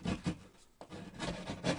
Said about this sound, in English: I'm just using my knife here.